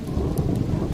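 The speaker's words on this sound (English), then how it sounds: "I wish there was a button in there to turn on and off the rain." Steady rain pours in the video game Subsistence, with a low rumble of thunder underneath, a dense continuous wash over a short moment.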